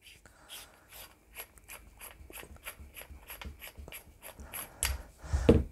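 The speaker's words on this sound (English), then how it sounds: "So I'm just going to crank the top off there." Top being cranked off an FX air rifle inlet valve with a tool, a series of soft, evenly spaced ratcheting clicks, close and quiet, ending in a couple of louder metallic knocks.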